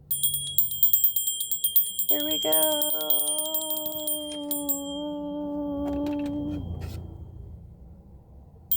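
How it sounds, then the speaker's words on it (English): A single bell is struck and rings out clearly, its tone sustaining for several seconds before fading, with a brief spoken phrase just before it. "let's do a ringing of the bell"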